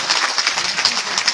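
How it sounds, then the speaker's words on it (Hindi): Loud, steady applause from a crowd honouring the host family at a seven-day Shrimad Bhagavat katha held in a village panchayat hall, dense clapping filling the whole stretch without pause. "एक बार जोरदार तालियां हमारे यजमान परिवार के लिए"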